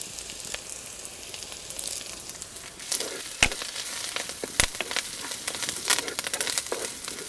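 Onions, green chili pieces and curry leaves fry in hot oil for a Rayalaseema dry mutton curry, giving a steady close sizzle with occasional sharp pops and stirring crackles, no voices.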